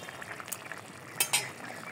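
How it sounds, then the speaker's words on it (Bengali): Fish pieces go into a simmering curry with bottle gourd in a pot, giving a couple of sharp clattering splashes and clinks over a faint steady bubbling. "এখন মাছগুলো দিয়ে দিব।"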